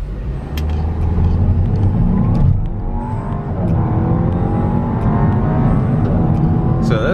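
2017 Audi A4 S Line with a 7-speed transmission accelerating hard: a strong, rising engine note climbs under heavy road and cabin noise, dips briefly at a gear change, then climbs again, loud and continuous.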